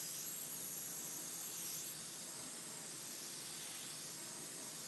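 A paint spray gun lays white candy paint onto a Road King motorcycle, producing a steady, even airy hiss that holds constant and fairly quiet for several seconds with no talking.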